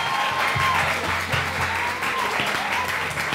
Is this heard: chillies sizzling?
no